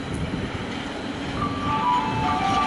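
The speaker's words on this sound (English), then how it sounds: "Not a shunter, but some kind of maintenance train." Maintenance train for overhead wires rolling through Budapest Kelenföld railway station in summer, a loud steady rumble with faint squealing wheel tones rising near the end.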